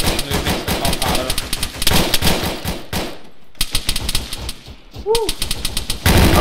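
Rapid bursts of automatic gunfire in ARMA 3 during a platoon training op on Altis, loud and dense for about three seconds, then a brief lull before more shots resume, with a faint voice in between.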